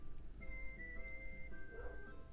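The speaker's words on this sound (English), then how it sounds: "My dog's barking." A dog barks and whimpers faintly indoors during a chat, with a few thin, high yelps over a low background hum.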